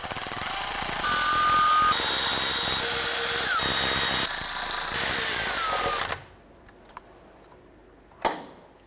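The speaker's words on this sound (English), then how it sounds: "Let's go ahead and snug down our bolts." A power tool snugging down timing cover bolts on a 2009-2015 Honda Pilot, a loud, close whir for about six seconds, then near quiet with a few light clicks and one short final burst.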